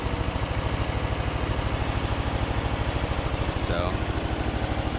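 Craftsman DYT4000 riding mower engine running with a steady, even idle pulse, close up, with a voice talking over it.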